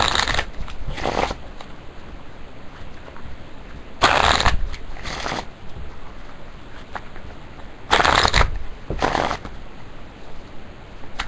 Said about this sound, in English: First thing we're going to do is shuffle the cards.